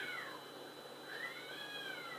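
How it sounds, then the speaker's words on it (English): Several cats yowl and caterwaul in a fight indoors, rising and falling drawn-out wails that sound somewhat distant and continue steadily for the whole stretch, with no talking. "we had a cat fight. My cats are fighting."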